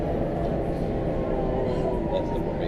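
Brakes of a WMATA Rohr railcar, number 1297, on the Red Line metro, heard from inside the train near Medical Center: a steady, loud rumbling roar with a faint high squeal, continuous throughout.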